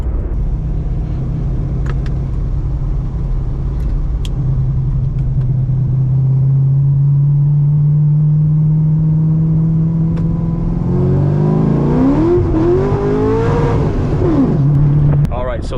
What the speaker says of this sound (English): So this is my C6 Z06 Corvette 2009.